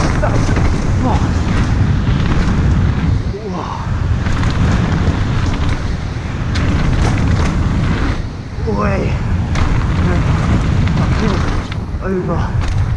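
Strong wind roars across the microphone in a constant, loud rumble, with a voice speaking briefly underneath.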